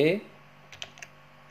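A few light computer keyboard key presses, near and quiet, closing out after a brief voice at the start.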